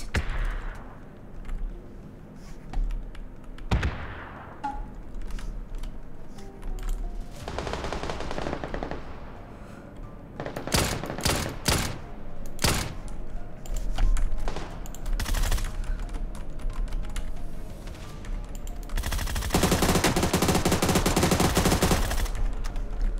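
Rapid automatic gunfire from a shooting video game, sustained machine-gun bursts with sharp single shots between, loud and close, with brief lulls and a dense final volley.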